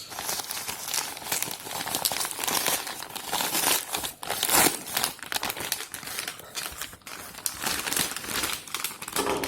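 A box cutter slices through packaging during an unboxing, giving a steady run of dense crinkling, scraping and tearing noises up close, with no talk over it.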